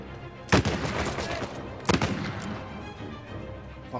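Two loud, sharp gunshots ring out in Uncharted 4, the second about 1.4 s after the first, over a steady bed of game background noise.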